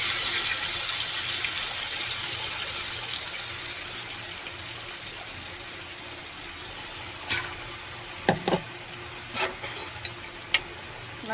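Ground masala paste frying in a pan with browned garlic for a Konkani-style prawn curry gives a steady, even sizzling hiss, with a few sharp clinks of a utensil near the end.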